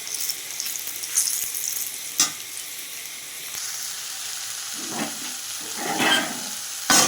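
Five or six dried red chillies fry in hot oil with a continuous close sizzle and hiss, broken by occasional bubbling spurts and a few stirring clicks, with no voices.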